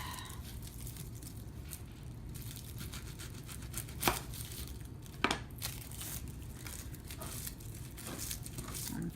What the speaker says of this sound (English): I'm gonna cut the ends of it off.